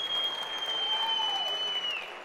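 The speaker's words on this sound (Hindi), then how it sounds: "मैं चाहता हूँ सर के लिए जरूर जोरदार तालियां होनी चाहिए।" An audience at a diamond celebration event claps in a steady, continuous round of applause. A faint electronic tone hums over the crowd.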